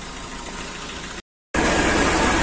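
A loud 5620 tractor engine runs steadily, cuts out briefly to silence, then returns louder and rougher as it starts up and idles close by.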